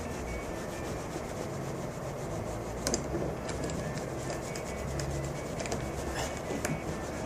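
A rag is rubbed hard against aluminum, producing a continuous close scrubbing and swishing sound of steady friction, with no talk.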